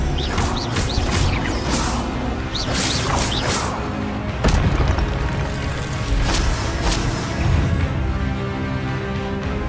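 Spell-casting effects from Hogwarts Legacy: repeated magical whooshes, cracks and impact bursts layered over a dense, loud game soundscape, with several sharp hits spaced through the scene and no talk.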